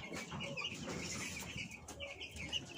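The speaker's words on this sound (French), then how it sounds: "Les 4 cartons de poussins sont là." Young chicks peeping in cardboard boxes: continuous, dense high chirping from many birds close by, without talk.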